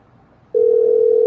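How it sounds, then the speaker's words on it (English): A telephone call rings through on the line: after a short quiet moment, a single steady electronic ringing tone starts and holds loudly to the end, with no one speaking. "So phone is ringing."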